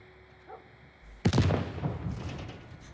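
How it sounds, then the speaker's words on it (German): A sudden loud boom erupts after a quiet moment in the video game The Last of Us, followed by a rumbling, crackling tail that slowly fades. "Das war eine Explosion."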